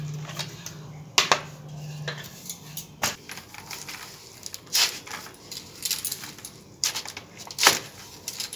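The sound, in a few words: cutting drumstick (sojne) leaves with a knife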